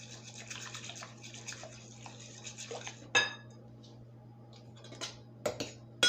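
Quick stirring of a fudge mixture in a bowl, with light scraping and clinks of a spoon against the dish, quiet and close, ending in a few sharper knocks.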